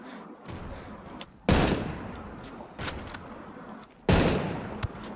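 Gunfire bursts in a shooting video game, with three loud, sharp volleys spaced about two seconds apart, each decaying into a rumbling tail over game background noise.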